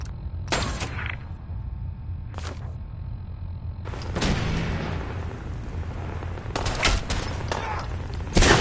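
Gunfire in Fallout 4: sharp broadband shots ring out in separate bursts, with a long dense volley starting midway and more rapid fire near the end, loud and close over a low rumbling background.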